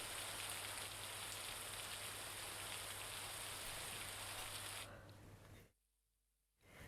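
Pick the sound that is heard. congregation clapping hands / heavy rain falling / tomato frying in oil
heavy rain falling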